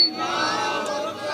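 A large crowd at an urs gathering shouts back in unison in response to a Naara-e-Takbeer chant, producing a loud, sustained collective cry that fills the short moment.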